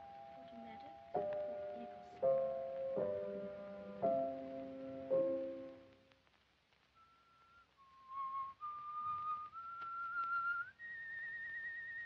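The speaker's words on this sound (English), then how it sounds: "What's that you're whistling?" A person whistles a tune clearly and alone, a few sustained notes in a slow melody, then after a brief pause a rising run of held tones; a 1947 crime film setting.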